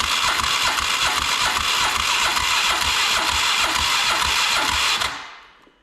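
A Polaris Sportsman 500 ATV engine cranks steadily for about five seconds without catching, a loud, close, rhythmic starter churn that then winds down and stops.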